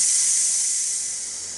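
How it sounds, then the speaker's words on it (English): A Ninja Foodi Deluxe pressure cooker vents through its release valve, giving a loud, steady, close-up hiss of escaping steam that eases off slightly, with no talk. "you hit your valve up here, turn, turn it to the right and it'll start letting off steam."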